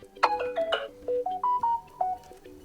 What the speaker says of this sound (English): the same with the notification sound.